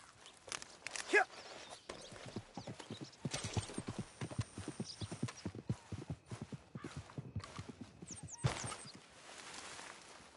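Horse hooves clip-clopping in Red Dead Redemption 2, a quick rhythmic run of hoofbeats at a gallop with a brief whinny and snort near the start and a few harness jingles.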